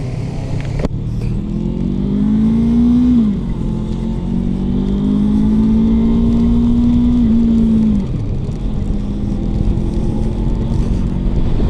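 A QJ Motors 450 RX adventure motorcycle is ridden on a wet, rainy day, its engine droning steadily close to the rider, pitch holding, then dipping briefly twice as the throttle eases, with heavy wind rush underneath.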